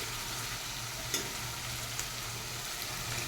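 Chopped onion and garlic fry together in a pan, a steady close sizzle with a couple of soft clicks from stirring, and no talking.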